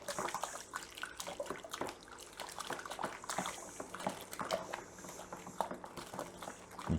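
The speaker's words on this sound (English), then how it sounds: "I'm going to add this in and make sure I'm stirring it at the same time nicely so it doesn't clump in." Liquid sloshes and swirls steadily as an ingredient is stirred in while brewing a Wilko IPA beer kit, a continuous close watery churning with no talk.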